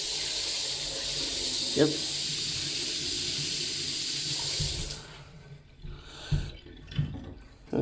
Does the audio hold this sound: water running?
yes